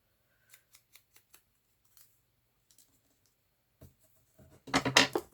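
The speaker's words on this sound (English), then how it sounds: "I just print the whole sheet and then cut it into strips." Scissors cutting a printed paper sheet into strips make a series of crisp, quiet snips, followed by a pause, a soft knock, and a louder burst of paper rustling and handling at the end, with no talking.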